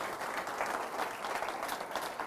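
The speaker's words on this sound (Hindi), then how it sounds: "जोरदार तालियों से खुदा के नाम की जरूरत है।" A church congregation at a Friday service claps loudly and continuously, a thick, even wash of applause with no talk over it.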